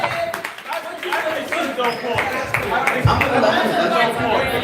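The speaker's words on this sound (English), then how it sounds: "Y'all clap it up for that. Clap it up." A group claps along with chatter and scattered laughter, individual claps audible close by while several people talk over them.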